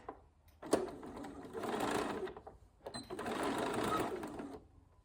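A sewing machine stitches a quilted zipper pouch from the wadding side in two steady runs of a few seconds each, with a short pause between them, close and moderately loud.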